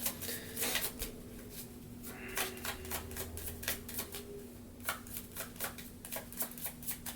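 Tarot cards shuffled and pulled from a deck, a series of soft, close riffling and flicking bursts, fairly quiet, over a steady low background hum with no talking.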